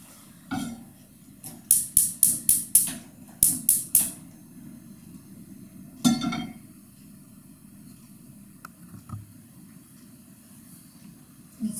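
A frying pan being fetched in a home kitchen, with a quick run of bright metallic clinks and clatters from cookware, followed by a single knock and then a quiet stretch.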